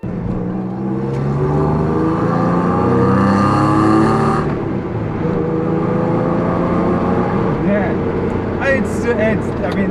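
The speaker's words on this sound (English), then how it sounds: "It's that iconic Porsche sound." A supercharged Porsche 996 with modified exhaust revs and drones loudly, its pitch rising and falling through several throttle blips, with a voice talking over it.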